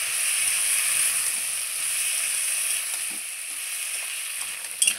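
A ground ginger and cumin paste is stirred in a hot frying pan, a steady close sizzle and hiss running throughout with a few soft spoon scrapes near the end; no one speaks.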